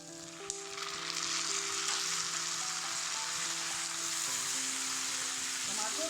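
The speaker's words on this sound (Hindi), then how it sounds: "आब एहिमे टमाटर दऽ देबै।" Tomatoes frying in a pan with softened onions and plenty of spices for a red kadai masala gravy, a steady close sizzle running throughout with faint stirring clinks.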